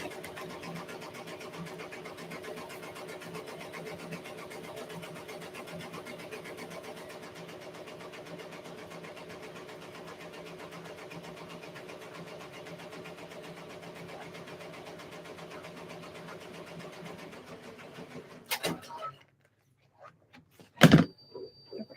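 A sewing machine runs continuously for about eighteen seconds with a steady mechanical whir and rapid needle chatter, then stops, followed by a couple of brief thumps in near silence.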